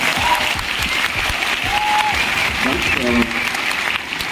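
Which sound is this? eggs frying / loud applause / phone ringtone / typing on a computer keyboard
loud applause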